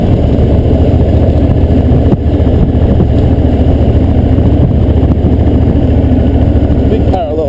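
A loud, steady Triumph Thunderbird Commander parallel-twin engine drones throughout at constant speed, a rough low throb with wind noise, as if heard while riding.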